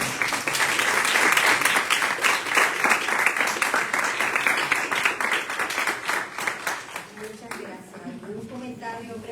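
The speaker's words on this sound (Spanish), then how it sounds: "Así que un aplauso, por favor," Closing a language and literature conference panel, a seated audience gives sustained, dense applause that gradually thins out over several seconds, followed by a speaker talking.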